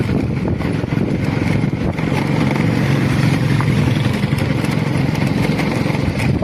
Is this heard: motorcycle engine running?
yes